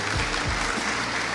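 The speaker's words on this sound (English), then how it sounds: "A round of applause, ladies and gentlemen." Conference audience applauding sponsors at a students' conference, a dense steady wash of clapping that holds at an even level through the short stretch, with strong background music or hum underneath.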